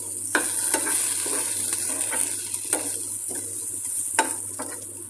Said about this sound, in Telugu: ఇలాగ ఒక ఐదు నిమిషాల పాటు వేయించుకోవాలి